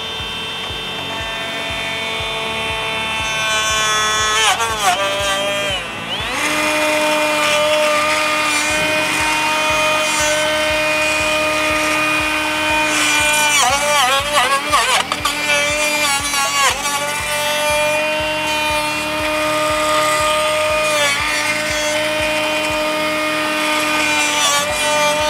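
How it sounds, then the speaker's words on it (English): A Reed Bevel Boss pipe beveler adapter head, bit inside, cutting a bevel on pipe at a trade show, a loud continuous whining, grinding drone with shifting pitch sweeps, steady throughout and close. "they can bevel pipe with it"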